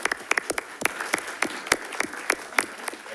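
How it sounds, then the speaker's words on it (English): Sparse applause from a small audience at a school district board meeting, a scattering of separate hand claps spread over a few seconds with a faint room murmur beneath. "Let's give her a round of applause."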